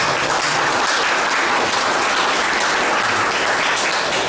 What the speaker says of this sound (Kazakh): Тағы бір қол шапалақтан жүрейікші осы.